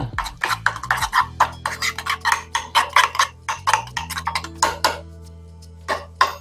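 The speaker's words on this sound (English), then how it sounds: "I'm just stirring this up." Ingredients with mayonnaise stirred briskly in a bowl for homemade sushi, a quick run of close, sharp clinks and scrapes of a utensil against the bowl, then a few slower taps.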